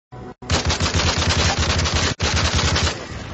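Rapid automatic gunfire in the Call of Duty: Modern Warfare 3 multiplayer video game, a loud dense burst of shots with a brief gap partway through, then continuing and tapering slightly.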